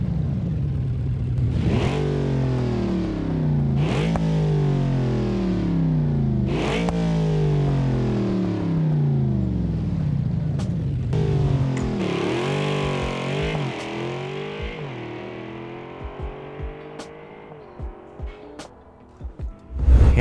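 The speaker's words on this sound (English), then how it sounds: "Just listen to this cold start." Custom modded SUV engine in BeamNG cold-starting, a loud, continuous rumble that rises and falls through several sharp rev surges in the first half, then settles into a rougher idle that thins out toward a few closing clicks.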